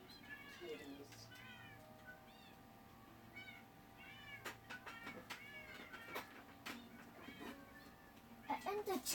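Several cats meow repeatedly indoors, with rising and falling calls arriving in bursts close by, while a person talks softly at intervals between them.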